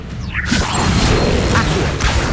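An Incendio fire spell cast in Hogwarts Legacy bursts out as a loud, sustained whooshing blaze with crackling, smashing edges, running close and continuous for a couple of seconds.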